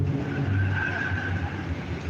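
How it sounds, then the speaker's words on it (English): Loud cars passing outside with skidding tires, a harsh sustained roar and a high squeal, heard from indoors at a steady level. "Loud ass fucking cars"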